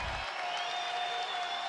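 A college basketball arena crowd cheers and claps for the Louisville Cardinals during an ACC men's game against Virginia Tech, a faint, steady roar with applause throughout.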